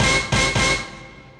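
A 90s rave stab synth chord left unprocessed hits three times in quick succession, bright and full-bodied, then rings out in a decaying tail that fades over about a second, with no one talking.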